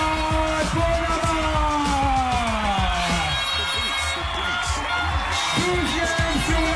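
A crowd at the Karujet 2012 jet ski race podium ceremony in Guadeloupe makes a loud, continuous roar, with blaring horns whose tones slide and overlap throughout.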